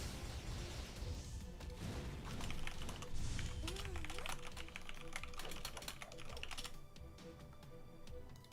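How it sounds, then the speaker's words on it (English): A computer keyboard clatters in quick, irregular bursts of keystrokes during a live game tournament stream, quiet and close, with faint background noise. "Apologies for the keyboard if you are able to hear that."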